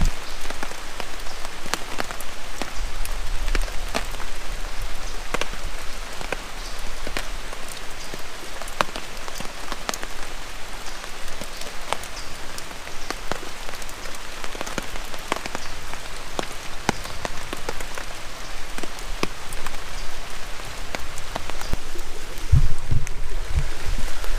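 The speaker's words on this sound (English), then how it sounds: "It's just like a nice gentle rain." Gentle rain patters steadily on a hammock during a camping night in Red River Gorge, with close, crisp drop ticks over a soft continuous hiss throughout.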